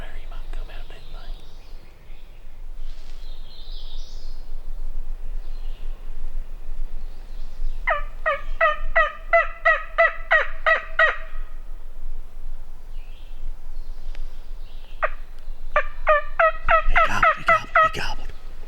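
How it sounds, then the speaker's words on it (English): A wild turkey gobbles twice in the distance, each rapid rattling call standing out over steady outdoor background noise, with faint hushed voices around it. "Yeah, he gobbled."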